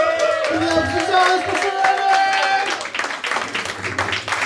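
A comedy club crowd applauds at the end of a stand-up set. A voice carries over the first part, then a broad wash of clapping from many hands fills the room and continues to the end.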